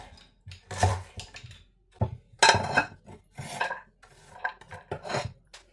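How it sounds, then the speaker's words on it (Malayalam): A knife cuts fruit into small pieces for a mixed fruit pickle, producing a series of short, close scraping and tapping strokes against a hard surface, spaced irregularly with brief pauses between cuts. "ഇങ്ങനെ വെച്ചിട്ട് ചെറിയ ചെറിയ കഷ്ണങ്ങളായിട്ട് അരിഞ്ഞെടുക്കുക"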